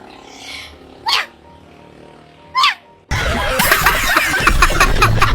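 A person's voice imitates a hungry puppy with two short high whimpering squeaks a second or so apart, then a burst of louder, busier noise takes over.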